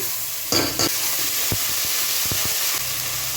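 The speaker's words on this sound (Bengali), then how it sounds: "মশলাটা আগে একটু ভালো করে ফ্রাই করে নিতে হবে" Spices and ginger-garlic paste sizzle in hot oil in a pan for Kashmiri mixed vegetables, a loud steady frying hiss broken by a few scraping stirs and brief bursts of spatter.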